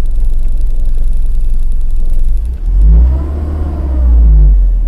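A small truck's engine, damaged after a crash on a highway, is being restarted: a loud, close rumble gives way to two heavy, labored engine surges.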